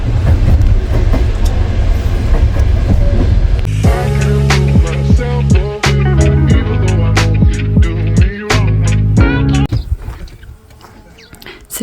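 A train carriage rolls loudly on rails on a trip toward Selenge, Mongolia, with a heavy low rumble and repeated metallic clicks and squeals. The sound fades near the end.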